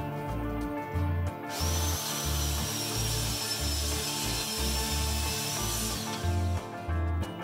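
Power tool cutting wood for kitchen cabinet fronts, a loud close whine with a steady pulsing hum and a high scraping tone that stops and restarts.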